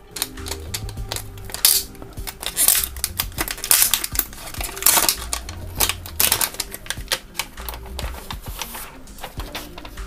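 Plastic wrap crinkles and crackles in close, busy bursts as a new Samsung Galaxy A03 phone is unwrapped, with no talking over the handling noise.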